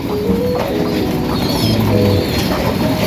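Racing pigeons coo and shuffle inside their loft after five days without flying, a steady close-up murmur of low cooing with wing and foot rustles throughout.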